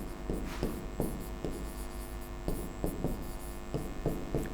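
Pencil scratching across paper during a handwriting lesson, close and clear, in repeated short strokes with brief pauses between them, over a steady low hum.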